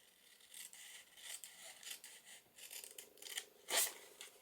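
Scissors or a blade snip a piece off the top of some material, giving a series of short, crisp cutting strokes at close range with a sharper snap near the end and no talk.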